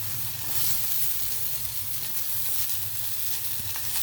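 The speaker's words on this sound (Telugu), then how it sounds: "కొద్దిగా జీలకర్ర వేస్తున్నాను" Cumin seeds sizzle and foam in hot cold-pressed sesame oil with a dense, steady hiss and fine crackling, close up and unbroken.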